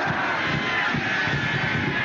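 A college football crowd at the 1993 Oregon at California game roars on their feet, a dense, continuous, fairly loud wall of cheering and clapping with no single voice standing out.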